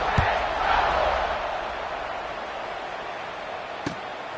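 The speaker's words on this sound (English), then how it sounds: "this crowd is buzzing after that last score" A college football stadium crowd keeps up a broad roar after a score, swelling early then easing into a steady distant rumble, with a couple of sharp thuds.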